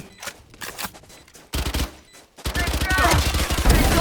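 Video game gunfire: scattered shots at first, then dense rapid bursts of automatic fire that grow loud and nearly continuous, with a voice briefly heard.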